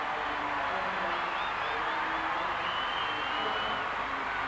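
A stadium crowd at a 1994 World Cup athletics meet in London roars steadily through a women's 3000m race, a dense, continuous wash of cheering and applause with a commentator's voice running over it.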